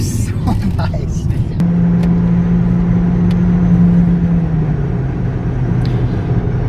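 A 2014 Mercedes CLA45 AMG drives with eco mode switched off, a steady low engine and road drone filling the cabin, with a brief sustained hum partway through.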